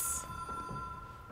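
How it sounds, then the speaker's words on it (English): A telephone rings in the game Control as a faint, steady electronic tone that holds through the whole short stretch, heard over quiet low background rumble. "there's a phone ringing"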